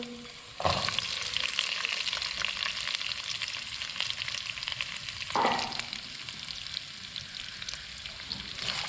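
Garlic, ginger, green chillies and chopped onion drop into hot oil with a sudden loud burst, settling into a steady close sizzle, then a second splashing surge as more goes in midway.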